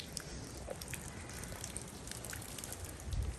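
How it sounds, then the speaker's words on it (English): Steady rain falling outside in the evening, a dense even patter with scattered droplet hits, moderately quiet and continuous with no voices. "it's been raining almost all day"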